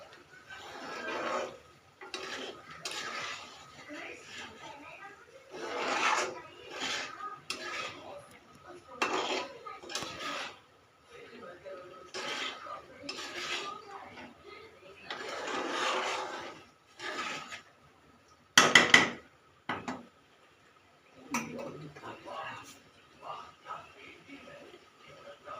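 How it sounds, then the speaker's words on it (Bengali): Peas and boiled potatoes for ghugni are stirred in a pan, with bursts of scraping and rasping from a spoon on the metal, irregular and fairly close, alternating with quiet gaps. "একটু নাড়াচাড়া করে নিন।"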